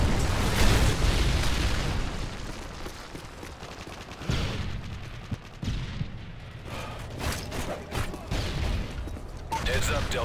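A Predator missile strike booms in Call of Duty: MW3 on the Lockdown map, with heavy blasts and scattered gunfire rumbling over several seconds amid battle noise and intermittent voices.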